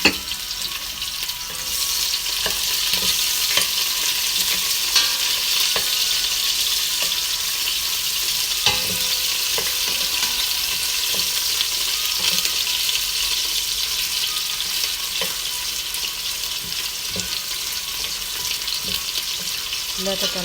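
Garlic and onion fry in a pan for a rice-and-lentil vegetable dish, giving a steady crackling sizzle that runs throughout with scattered sharp pops and clinks.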